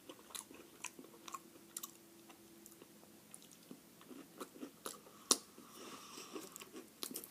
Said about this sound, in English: That cookie on top is crunchy as hell.